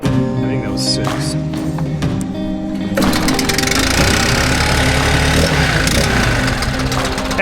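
A STIHL BR 800 X Magnum backpack leaf blower, run on ethanol-free fuel, starts after a quiet stretch and then roars steadily and loudly at close range for the rest of the clip.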